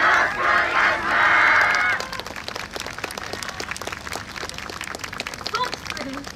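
At an outdoor YOSAKOI dance performance in Kotodai Park, Sendai, during the Michinoku YOSAKOI Festival, a loud crowd shout is followed by a steady rhythmic handclap as the audience claps along in time.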